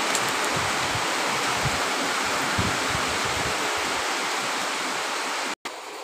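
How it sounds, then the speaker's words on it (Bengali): Heavy rain falls hard and continuous, a thick rushing roar with scattered heavier splashes, briefly cutting out near the end before resuming. "দেখুন কত বৃষ্টি হচ্ছে,"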